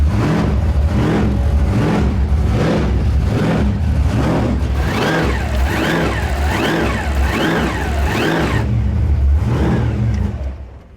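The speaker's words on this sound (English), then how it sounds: "About to go for a test skid." A 1500HP car revs hard and repeatedly during a test skid, its engine climbing and falling in quick rising-and-falling sweeps, loud and close throughout, fading out at the end.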